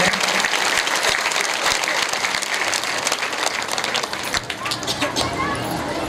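Audience clapping at a Shrimad Bhagwat Katha religious gathering, loud continuous applause with crowd murmur mixed in, carrying on for several seconds.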